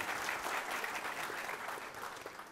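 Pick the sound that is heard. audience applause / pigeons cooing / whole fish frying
audience applause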